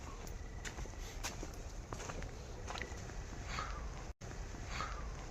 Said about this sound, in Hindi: हाँ पैरों की आवाज आ रही है, कुछ चल रहा है।